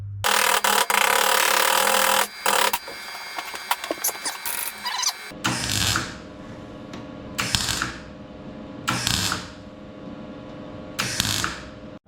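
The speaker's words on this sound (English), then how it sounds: "And then work on this one with the bandsaw," Metal-cutting bandsaw slicing through a rusty 1957 car body panel in a hot rod garage, a loud continuous grinding rasp for the first few seconds, then a series of shorter bursts of cutting separated by pauses.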